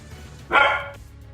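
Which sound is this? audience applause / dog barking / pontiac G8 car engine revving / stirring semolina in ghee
dog barking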